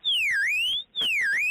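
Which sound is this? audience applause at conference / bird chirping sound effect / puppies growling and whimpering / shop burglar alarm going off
shop burglar alarm going off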